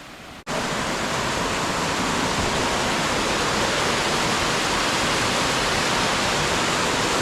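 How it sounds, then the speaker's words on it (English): Series of highland waterfalls crashing into plunge pools, a loud, steady roar of rushing water that kicks in abruptly after a brief quieter moment and holds constant, close and dense. "It's this series of waterfalls and plunge pools,"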